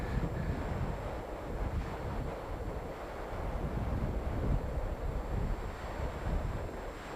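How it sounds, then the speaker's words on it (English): Strong wind buffets and rumbles continuously, a low, gusty roar with no voices. "Because it's so windy."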